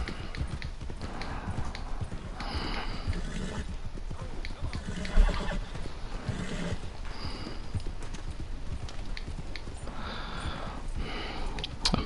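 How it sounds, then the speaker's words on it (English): Horse hooves clip-clop steadily and close up as a horse is ridden in the Western video game Red Dead Online, with a busy game soundscape of rustling and movement running underneath for the whole stretch. "Fucking calm down, horse."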